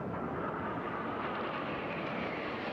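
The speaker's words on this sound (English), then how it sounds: "These truly are the fastest of the aircraft here this weekend in Reno." Jet racing aircraft at the Reno air races, a steady broadband roar of jet engine noise held at even loudness throughout, without talk.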